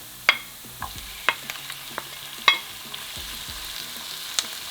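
Onions and tomatoes cooking down in a pan, a soft steady sizzle punctuated by a series of sharp spatula scrapes and taps against the pan.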